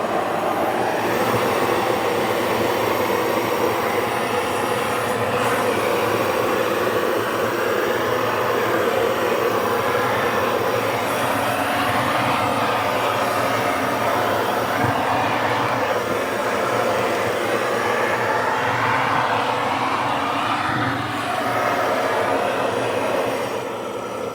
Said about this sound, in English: You just turn it on a little bit to hear the gas.